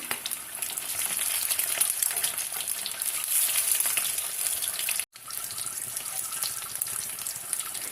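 Steady crackling sizzle of stuffed eggs frying in hot oil in a pan, close and continuous, with a brief silent break partway through.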